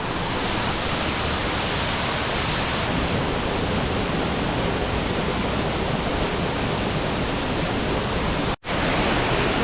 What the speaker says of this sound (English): And very cool waterfall.